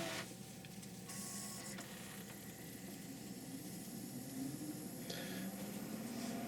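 A Pioneer laserdisc player, CLD-D925 or CLD-S310 type, starting to play a disc: continuous mechanical whirring and motor hum with faint clicks and rising spin-up tones, steady and close.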